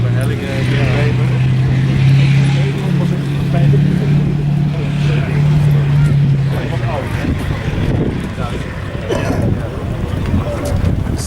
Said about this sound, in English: Insurgents starting up the vehicle.